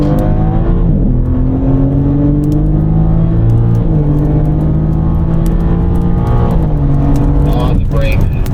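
A BMW M4 on the Desert Palm Circuit race track pulls hard under acceleration, its engine note climbing through the gears with brief dips at shifts, loud and close inside the car while an instructor talks over it.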